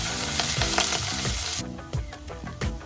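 Onions fry in oil with mustard seeds and curry leaves for batata poha, making a loud, dense close sizzle with stirring scrapes. The hiss drops sharply partway through, leaving crackles and spoon knocks.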